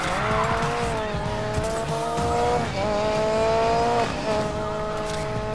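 Car drifting in the Need for Speed Payback racing game, a loud steady engine roar with long, wavering tire squeal that swells and shifts pitch through the slide.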